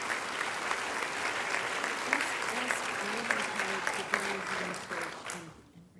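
Rally audience at a climate action event applauding in a sustained, dense wash of clapping, fading out at the end, with a voice speaking faintly over it.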